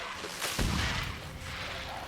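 A single heavy explosion in The Witcher 3: Hearts of Stone, a deep booming blast that hits hard and then rolls into a long rumbling tail under a steady background roar.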